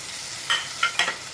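Spice paste of ginger, garlic, green chili, turmeric, coriander, cumin, Kashmiri chili and salt frying in a pan for a jackfruit and prawn curry; a soft steady sizzle with three brief scraping stirs, no talk.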